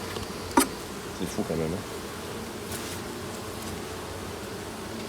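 Honeybees hum and buzz steadily around an open hive during a July inspection, a continuous insect drone with a close tap near the start and brief speech over it.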